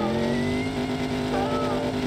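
A Dodge Charger Hellcat engine in a video game holds a steady, loud, low drone with a strong harmonic tone, running continuously for about two seconds and hinting at a light rev change partway through.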